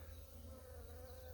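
Carniolan honeybees at a newly bought hive drone in a steady, close, continuous buzz that holds level without pause, with no voices over it.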